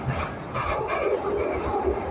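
A Glasgow Subway train rumbles steadily along the tracks as it nears Govan station, with continuous rail noise and faint clicking heard from inside the carriage.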